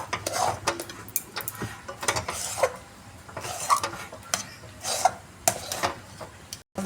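Semolina with cardamom seeds being stirred in a pan, a spoon scraping and clinking against the metal in irregular strokes, close and fairly loud with no talk.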